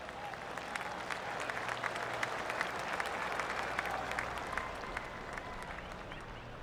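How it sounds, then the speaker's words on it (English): Golf gallery on the course in the PGA Tour 2K25 video game breaks into steady polite applause, a moderately distant crowd clapping continuously for several seconds. "Oh, I can hear the golf claps around the course."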